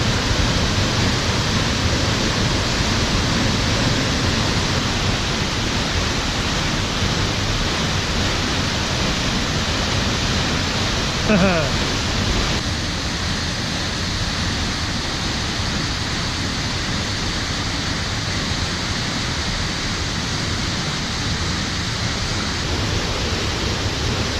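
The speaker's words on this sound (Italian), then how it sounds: "Ecco la seconda cascata, Tovarish." Lower of two stacked waterfalls rushes with a steady, loud, broadband roar of falling water, unbroken for the whole stretch with no voices.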